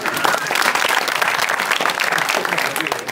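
Studio audience at an Azerbaijani comedy show applauding steadily, a dense wash of clapping that stays loud and even from start to finish with no voices standing out.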